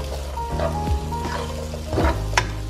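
Green onions sizzle in a hot pan while being stirred, a soft steady frying hiss with a few scraping stir strokes and light clatter, fairly quiet and close.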